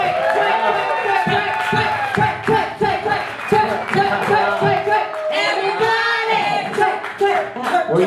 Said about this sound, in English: A big round of applause for Amy Berry, everyone.